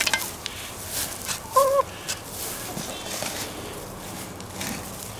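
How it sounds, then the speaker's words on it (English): Hens in a backyard chicken coop give one short, close cluck partway through, with quiet outdoor rustling before and after. "These hens think I'm the rooster and I'm digging up their food."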